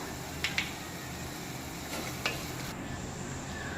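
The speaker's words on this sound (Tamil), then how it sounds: "இப்போ இது கூடவே கொஞ்சமாக மஞ்சள் தூள் ஆட் பண்ணி கிளறி விட்டுக்கலாம்" Beetroot sautéing with salt and turmeric for beetroot pulao while being stirred in a pan, a soft continuous sizzle punctuated by a few sharp spoon clinks against the pan.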